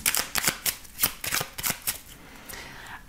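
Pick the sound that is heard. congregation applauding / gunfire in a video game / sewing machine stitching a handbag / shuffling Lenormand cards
shuffling Lenormand cards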